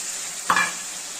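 Ground spice powder tipped from a bowl into a pan of onions frying for a fish curry (aar macher kalia), giving one brief soft burst of sizzle over a steady background frying hiss, with no talk.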